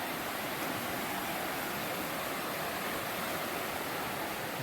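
High water of the Quinapoxet River rushes steadily, a dense, even broadband roar of flowing water close by with no pauses or voices.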